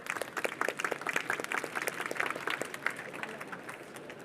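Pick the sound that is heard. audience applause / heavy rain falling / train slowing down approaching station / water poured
audience applause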